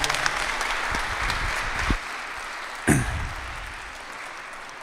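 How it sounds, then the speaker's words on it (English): A live audience applauds steadily for a guest at a talk on fasting, a dense, continuous patter of many hands at moderate distance, with a couple of brief louder bumps partway through. "We give Glenn a round of applause."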